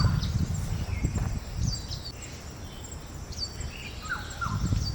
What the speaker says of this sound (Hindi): ये भाई कितनी प्यारी चिड़ियों की आवाज़ आ रही है